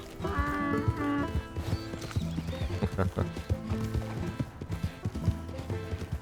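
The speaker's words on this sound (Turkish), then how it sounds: "Zebra görünümlü katır." Hooves of a zebra-striped mule in the Red Dead Redemption 2 video game clip-clop steadily, mixed with game music and a voice talking throughout.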